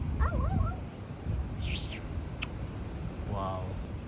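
Two black and white fluffy puppies on a beach whimper and yip in short wavering calls, close by, over steady wind and surf noise.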